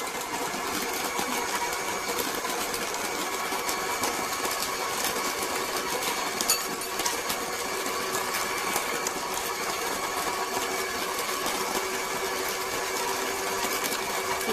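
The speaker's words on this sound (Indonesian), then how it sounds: "Kita kocok lagi sampai tercampur merata." Electric hand mixer beating cake batter for onde onde with margarine and vanilla, a steady high motorized whir running continuously and evenly throughout, with no talk.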